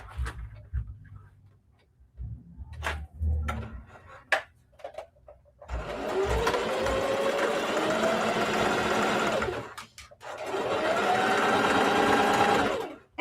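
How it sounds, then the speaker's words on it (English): A sewing machine stitches around a fabric circle for a half-circle handbag in two sustained runs, a close, loud whirring drone that rises in pitch as it speeds up, with a short pause between runs. Before the stitching begins there are handling clicks and fabric rustle. "So I am going to be sewing my circle at 1/8 of an inch seam allowance."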